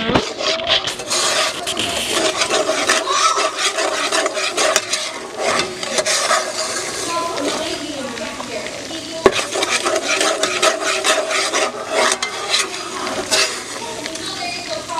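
A spoon scrapes and stirs steadily through New Orleans style gumbo in a pot, with a loud, continuous rasping and faint sizzle underneath and a rhythmic rhythm of strokes throughout.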